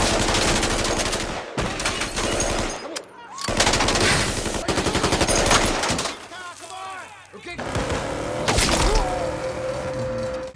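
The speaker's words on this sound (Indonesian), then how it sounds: "tembakan polisi tadi berhasil menembus tubuh Sterlo" Police gunfire in a film: rapid, loud bursts of shots in several long volleys, with crashes and breaking sounds mixed in and short gaps between them.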